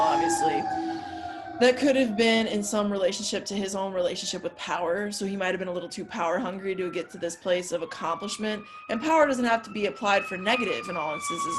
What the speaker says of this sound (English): sorry for the sirens, totally out of my control